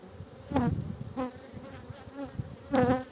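Honey bees from a young swarm colony buzz close by at a hive in hot Antalya weather, a few individual bees whirring past in short bursts over a quiet background.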